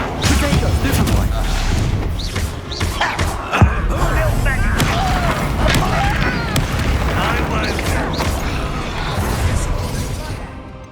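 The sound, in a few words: spell impacts from Hogwarts Legacy video game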